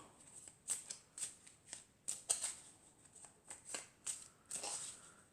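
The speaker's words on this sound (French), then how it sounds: "je vais prendre une carte de l'oracle des elfes" Elf oracle cards being shuffled by hand in a series of soft, papery riffling bursts with brief pauses between, close and fairly quiet, with no talking.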